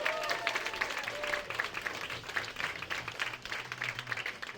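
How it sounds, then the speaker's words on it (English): A room of people applauds at a science-of-education event at Loyola, steady moderate clapping that swells and thins, with a few faint voices underneath. "Start clapping right now for Dr."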